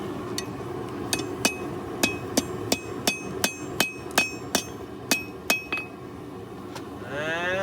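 A blacksmith hammers red-hot steel into a leaf-shaped meat hook, a steady series of about a dozen ringing metallic blows with bright clinking overtones, close and loud, ending in a fading ring.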